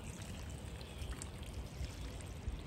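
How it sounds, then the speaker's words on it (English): Water mixed with soluble fertilizer pours from a two-gallon container into a potted plant, a quiet, continuous trickling stream heard alone. "we're just going to give this a really really good soak"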